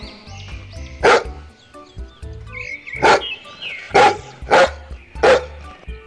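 A cartoon dog in a children's ABC phonics song barks five times in sharp, loud bursts with uneven gaps, over light background music.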